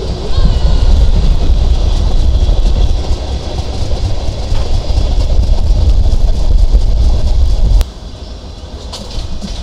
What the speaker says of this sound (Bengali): ভাঙার দিকে ঢুকতেছে আমাদের ট্রেন